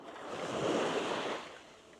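Waves wash onto a sandy Norwegian Sea beach, a steady, soft surf that swells slightly and then eases, with light wind and no talking.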